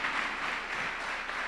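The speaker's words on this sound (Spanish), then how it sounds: "Dale fuerte el aplauso al Señor Jesús." A church congregation applauds during a sermon, a brief steady burst of dense clapping at moderate loudness with no voices over it.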